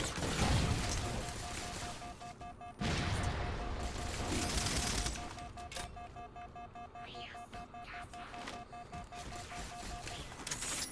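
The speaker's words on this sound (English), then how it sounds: "Man, this Needler gun, look at it go." Rapid fire from the Needler weapon in Halo 4 plays as dense, crackling bursts with a steady high tone running beneath, loud and close, broken by brief pauses, with no voices over it.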